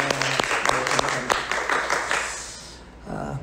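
Church congregation clapping for the mixed worship team during a Sunday service, with dense, uneven hand claps that fade out after a couple of seconds, followed by a brief voice.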